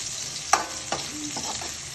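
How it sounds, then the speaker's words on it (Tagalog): Chopped onions fry in a hot pan while being stirred, with a steady sizzle underneath and a few scraping, clinking strokes of the utensil against the pan, close and fairly quiet. "Saka ilagay natin ng sibuyas idol. Haluin lang natin hanggang mag brown brown siya."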